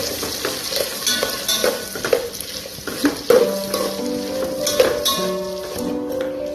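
Ingredients for bagara rice fry in a pan with a steady close sizzle, broken by repeated scraping and stirring clinks of a spoon against the metal throughout.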